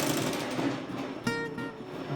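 A sewing machine runs a short back stitch on fabric, a quiet steady mechanical whirr with a faint rhythmic clatter and a small knock partway through, close with no talk.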